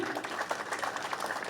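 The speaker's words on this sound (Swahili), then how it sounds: "Makofi kwa squad 9." Brief burst of clapping from a crowd at a rangers passing-out parade, moderately loud and scattered, lasting only a moment.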